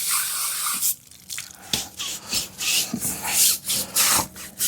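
Water sprays and splashes off a soft wheel-cleaning brush being rinsed, with broadband hissing bursts and scrubbing rubs coming in irregular pulses, close and fairly loud, and no talking.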